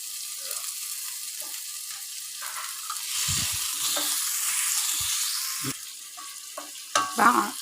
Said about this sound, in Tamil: தக்காளியும் வெங்காயம் நல்லா வதங்கிடுச்சு